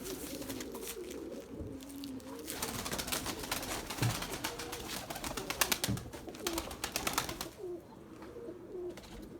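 Pigeons coo repeatedly in low, throaty murmurs, several birds overlapping against a busy, rustling background.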